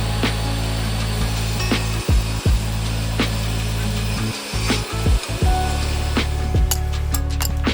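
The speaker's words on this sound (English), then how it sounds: "I can then raise the height of the blade to match the thickness of the board, and then rip these things to 1 3/4 inches." A table saw rips wooden boards lengthwise into narrow strips, a loud, steady whine with a low hum up close. Brief dips mark the blade cutting through the wood, with a few clicks near the end and no talk.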